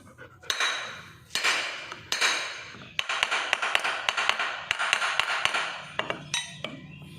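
Sharp metallic hammer strikes ring out, a few spaced blows at first and then a quicker run of steady taps, close and loud, driving a motorcycle wheel bearing into place.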